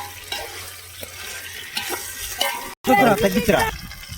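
Chicken sautés in a pan for Nellore-style chicken biryani, with intermittent stirring scrapes over a steady sizzle, a brief silent cut, then louder stirring and frying.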